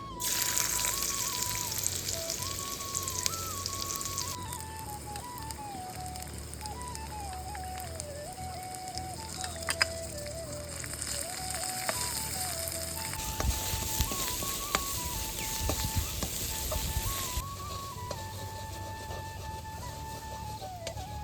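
Chopped onion, dried chili paste and ginger paste frying in a kadai give a steady, close sizzle throughout, with a melodic tone running over it and no talking.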